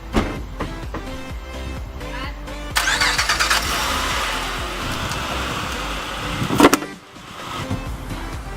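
A 2008 Honda Pilot's engine cranks and catches partway through, then runs with a loud, steady idle for several seconds before dropping away. Quieter mechanical clicks and handling sounds come before it starts.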